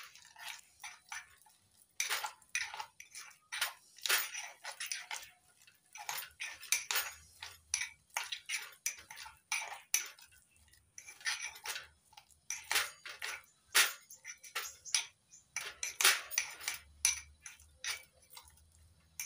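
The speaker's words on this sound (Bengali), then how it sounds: "এবার এই পাতাগুলো কদবেল মাখার মধ্যে দিয়ে দিচ্ছি, ভালো করে মেখে নেব।" Wood apple pulp mixed by hand with leaves, a quiet, steady run of squelchy, clicking dabs and smacks, close by with no voices.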